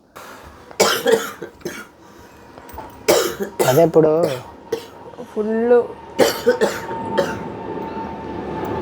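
A woman with a throat infection coughs repeatedly in harsh bursts, close by and indoors, with people talking between the coughs.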